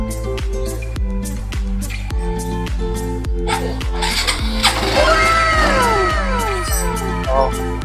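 XRM 125 motorcycle engine after a carbon brush replacement, cranking with steady rhythmic pulses, then firing up and settling into a loud, close idle with squealing whines over it.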